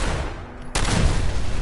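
Fireworks in the video game Fallout 4 burst with a sudden loud blast that leads into a dense crackling roar, following a quieter stretch of background noise.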